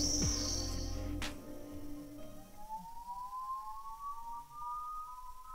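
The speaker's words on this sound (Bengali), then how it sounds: "চায়ের কারখানার শ্রমিকদের কাজের সময় হয়েছে, তাই কারখানাতে সাইরেন বেজে উঠল।" A tea factory siren sounds for the workers' shift change, a long, faint, rising wail carried from a distance. Insect buzzing fades out as it begins, and no one speaks.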